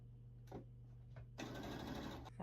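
A sewing machine stitches two quilt fabric pieces together, a couple of short taps and then a steady, close whirring run of about a second, faint and alone.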